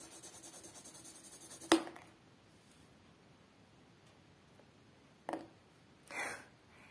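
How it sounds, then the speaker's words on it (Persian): Pencil shading on paper in a drawing lesson, a soft rhythmic back-and-forth scratching that stops with a sharp snap, then a few brief faint rustles; close and quiet, no talk. "مثلا من دارم خونه شماره 1 رو طراحی می‌کنم، فشار دستم اینجوریه."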